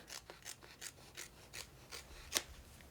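Scissors snipping through the ends of Gorilla Tape, a quick series of about eight crisp, close cuts in steady rhythm, one sharper snip near the end, no talking.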